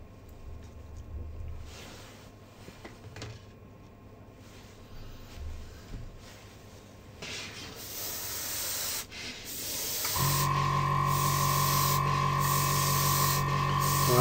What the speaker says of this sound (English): that's certainly spraying a lot better now